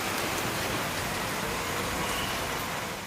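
Heavy monsoon rain pours over flooded city streets in Valsad, South Gujarat, as a dense, continuous hiss of falling water that stays loud and unbroken from start to finish.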